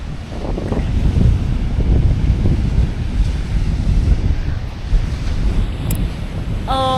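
Waves roll and wash ashore on a beach at Half Moon Bay, California, in a constant low roar, mixed with gusty wind buffeting the microphone, close and fairly loud throughout.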